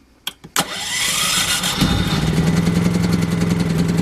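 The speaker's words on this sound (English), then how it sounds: "I'm going to crank this generator up." A generator engine with its choke pulled out is cranked by an electric starter in a few short bursts, then catches and settles into a steady, loud running drone close by, with no talking.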